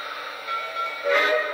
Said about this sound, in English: So now, when I start the train, it will actually start doing sounds.